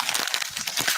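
Pages of paper from a Quran are crinkled and rustled close to the microphone in a short, continuous burst of crisp, dense crackling.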